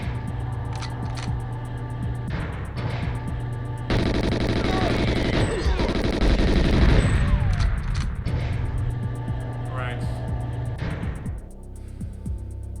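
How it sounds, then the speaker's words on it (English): Rapid bursts of gunfire shooting at crates in GoldenEye XBLA, sharp repeated shots clustered in the middle with game music and effects running underneath throughout. "Shooting the crates doesn't really do that much."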